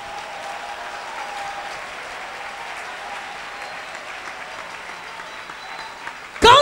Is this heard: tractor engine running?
no